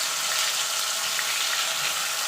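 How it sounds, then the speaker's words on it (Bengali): Okra coated in salt, turmeric and gram flour sizzles steadily in hot mustard oil, a constant close hiss and crackle with no talking. "দিয়ে এটাকে হালকা করে ভেজে নেব"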